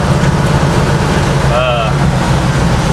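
A Chevrolet Blazer driving slowly through a residential neighborhood, a loud, steady interior engine and road drone with wind, while someone talks over it.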